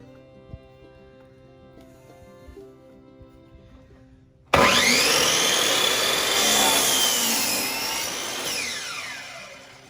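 A table saw starts abruptly after a quiet stretch with faint music, whining loudly as it cuts wood for a couch base, its pitch bending as the blade bites, close by.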